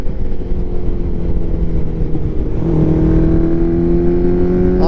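A rare vintage Yamaha motorcycle with carburetors rumbles loudly nearby, then its revs climb into a rising, snappy engine note, with no voices.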